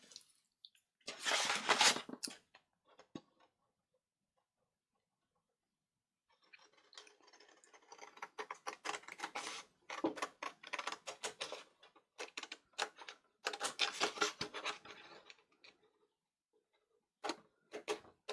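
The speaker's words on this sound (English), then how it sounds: "So let's get this cut out. I'll cut it with scissors." Crisp, quiet snipping and scratching in short bursts, separated by a long silence, like scissors cutting through paper close up.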